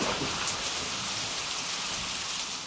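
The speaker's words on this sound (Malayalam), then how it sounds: "മഴ ഉറയ്ക്കുന്നു." Heavy rain pours down steadily, a dense, even hiss of drops on surfaces with no pauses, loud and close throughout.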